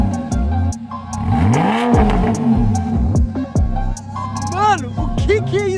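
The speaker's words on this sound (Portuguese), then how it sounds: "não sei se vai ser cold start, mas pelo menos o ronquinho" A Porsche engine starting up and revving, the deep exhaust note rising and falling in repeated blips, loud and close, with excited voices talking and exclaiming over it.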